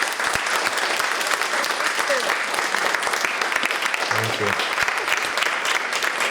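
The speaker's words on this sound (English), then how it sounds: "can we get a round of applause?" An audience at a cultural salon event gives a sustained round of applause, dense steady clapping filling the whole stretch, with a brief voice speaking over it near the end.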